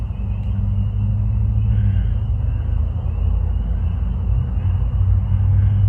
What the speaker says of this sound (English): See a car coming by there.